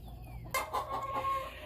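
Chickens clucking close by in a backyard garden, a few soft clucks followed by a short burst of louder, overlapping clucks.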